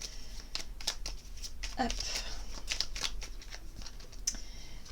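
Oracle cards are shuffled and drawn by hand in a quiet room, a soft papery riffling and flicking with a few sharper snaps, close and low, while someone speaks briefly in French.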